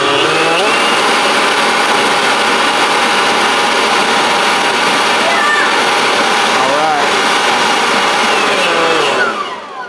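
A Milwaukee M18 dual battery leaf blower runs at full throttle, giving a loud, steady high-pitched whoosh that holds for nearly ten seconds before easing off; a few changes in pitch run through it.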